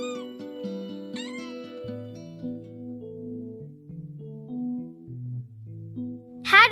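Young kittens give several short, high meows, near the start and again at the end, over quiet, soft background music.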